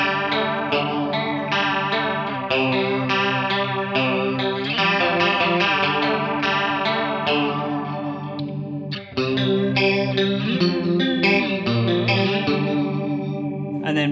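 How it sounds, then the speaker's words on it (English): Electric guitar played through a Mooer Ensemble King analog chorus pedal with distortion, chords ringing with a wavering, seaside-like warble; sustained strums fill the space, a brief gap near the middle, then more chords, with no speech. "You've got your kind of seaside warbly effects there."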